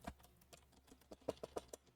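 Computer keyboard typing during a Project Sekai livestream, a quiet run of irregular clicks that speeds into a cluster of sharper keystrokes near the end, with no talking over it.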